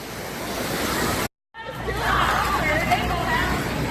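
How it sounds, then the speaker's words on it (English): Waves roll and surge in a water park wave pool, a continuous rushing wash under the hubbub of a chattering crowd, with a brief dropout partway through. "the waves are going"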